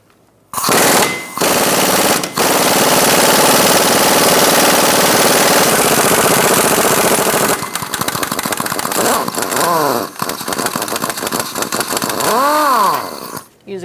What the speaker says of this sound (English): Using a 17mm socket, we're going to take out this bolt.